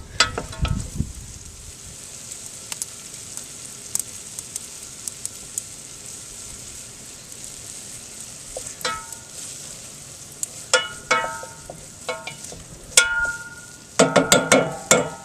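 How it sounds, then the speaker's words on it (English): Onions and carrots sauté in a pan on a kamado-style Egg grill, a steady low sizzle broken by sharp clicks and scraping as a utensil stirs the vegetables, busier toward the end. "So I'm going to saute these for 2 or 3 minutes and just let them get good and soft."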